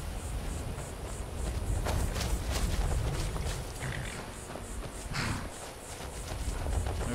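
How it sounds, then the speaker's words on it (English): Horses run away in the Skyrim video game, a faint patter of hoofbeats over a low rumbling game background, soft and distant throughout. "Some of our horses running away."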